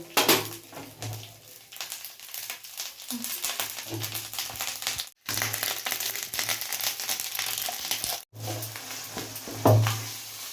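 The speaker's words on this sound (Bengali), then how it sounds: "এবার এর মধ্যে দিয়ে দেবো মটরশুঁটির পেস্টটাকে" Green pea paste is stirred into hot oil with ginger and asafoetida for pea kachori filling, giving a steady sizzle broken by scraping and clinks of a utensil against the pan.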